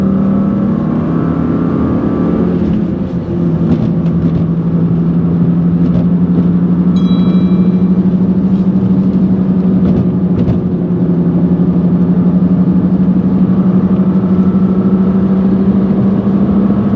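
A 1995 Dakar Yellow BMW M3 with an aftermarket exhaust while driving, a loud steady engine drone that climbs slightly in pitch as the car accelerates, heard from inside the car without talk.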